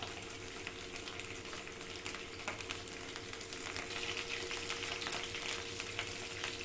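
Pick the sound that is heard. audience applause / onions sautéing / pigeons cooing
onions sautéing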